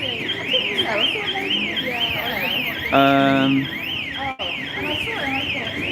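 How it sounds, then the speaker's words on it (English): A car alarm sounds loud and close during street activism in Salisbury, its siren sweeping up and down steadily, with a brief steady horn-like tone partway through and faint voices underneath. "Sorry about the alarm."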